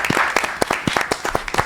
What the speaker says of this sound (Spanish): Recibimos con un muy fuerte aplauso a Julia Mensa.